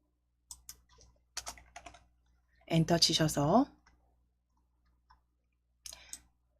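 Computer keyboard keys typed and clicked in short separate bursts while adding slides in PowerPoint, with a brief stretch of speech in the middle.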